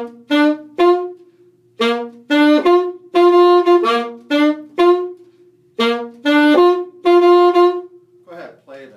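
A saxophone plays a short Second Line phrase from a Mardi Gras song: clear, bright notes in bouncy groups with brief gaps between them, heard alone and up close.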